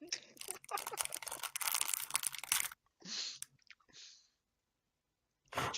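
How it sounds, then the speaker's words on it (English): A plastic packet of Haribo sweets crinkles and tears as someone struggles to open it, with dense rustling in the first half, then a few shorter bursts after pauses. "Are you chewing into a packet or something?"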